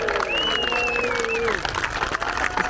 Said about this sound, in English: Let's have a cheer for Adam Rieman